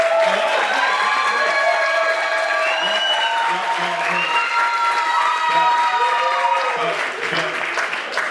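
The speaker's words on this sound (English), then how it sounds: "I didn't feel a full clap over here." A live comedy show audience claps and cheers in a steady, loud wave of applause, with whoops and voices rising over the clapping throughout.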